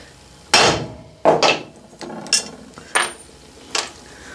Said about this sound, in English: I'm using a bigger brass hammer and getting a better impression